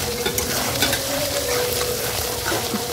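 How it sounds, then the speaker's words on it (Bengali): Ghugni spice mix sizzles and fries in a pan while being stirred, a steady close hiss with scraping stirring strokes throughout. "তো মশলাটা ভালো করে কষিয়ে নিচ্ছি আমি একটু, আর একটু কষিয়ে নেব দেখি।"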